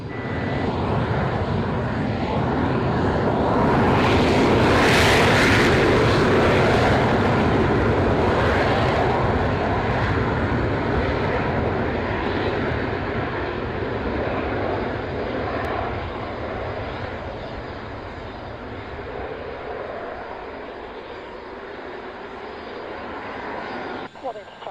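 An aircraft takes off from Waddington with a broad roaring engine wash that swells to a peak early on, then slowly fades and thins as it climbs away, heard steadily at moderate distance.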